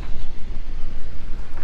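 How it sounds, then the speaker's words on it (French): Wind buffets hard and ocean swell rushes around a sailing boat on an open-sea crossing toward Martinique, giving a dense, roaring, gusting noise throughout. "Donc on a une belle houle qui arrive de ce côté-là, le vent aussi d'ailleurs."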